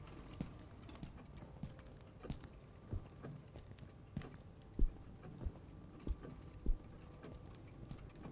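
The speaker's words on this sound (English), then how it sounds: "hear footsteps again." Footsteps in the horror video game Song of Horror, set in a haunted house at night: irregular hollow thuds and knocks, a few louder steps standing out over a low ambient rumble, with no talk.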